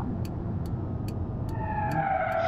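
A car engine hums steadily while driving in BeamNG.drive, rising into a higher-pitched whine toward the end, with regular faint ticking beats over the top.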